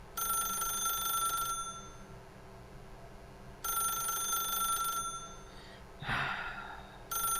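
A telephone rings in the video game The Stanley Parable, loud electronic rings in long bursts separated by pauses, with a brief breathy sound between them and no talking.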